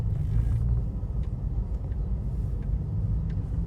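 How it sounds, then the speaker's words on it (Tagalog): Steady low traffic rumble from cars and motor vehicles on the road beside a busy Philippine public market, continuous and moderately close, with faint clatter on top and no voices. "Traffic pa rin, oh."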